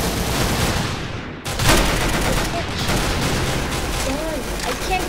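Gunfire in the video game Arsenal, a dense, continuous barrage of shots with a sharp burst near the start, sustained loudly throughout with no voices.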